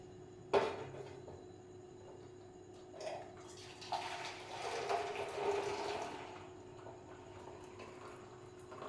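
Boiled ginger tea poured back and forth between vessels to cool and froth it, a soft splashing liquid stream that swells in the middle and then fades, preceded by a single clink.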